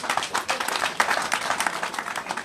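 Audience applause welcoming a speaker at a gathering of the Coalition pour la Nouvelle République in Atong Abé, steady dense clapping from a crowd throughout, moderately loud and without speech.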